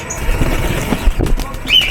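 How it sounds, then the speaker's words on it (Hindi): A pigeon held in someone's hand flaps its wings in a rapid, close flurry of feathery beats over about two seconds, with rustling throughout. "कबूतर मेरे हाथ में आ गया, उजैर के भी हाथ में आ गया जी।"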